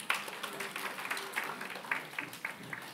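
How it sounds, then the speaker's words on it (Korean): A church congregation gives a brief, scattered round of applause during a Sunday service, light claps pattering unevenly at moderate distance for a few seconds. "그 친구가 누군지 모르지만 박수 한번 쳐줍시다."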